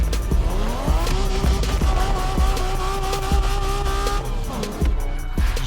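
A car in The Crew Motorfest racing game drives hard with a loud, steady engine tone and tires squealing through a long skid, the sound dense and close throughout.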